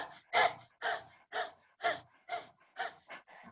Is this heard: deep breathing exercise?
yes